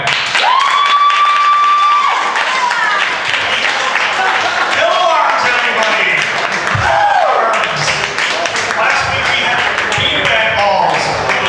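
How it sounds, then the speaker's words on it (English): An audience at a comedy show applauds and cheers for itself, dense loud clapping with whoops and crowd noise across the whole stretch, voices calling out over it. "I want to give you guys a round of applause for yourself, please. Clap for yourself."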